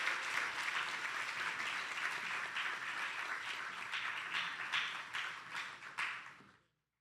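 An audience at a fraternity honours convocation applauds steadily as a widow walks to the stage, the dense clapping carrying on evenly before tapering and cutting off abruptly.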